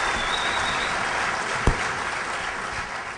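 Steady, dense applause from a conference audience fills the whole stretch at an even level, with one sharp knock partway through.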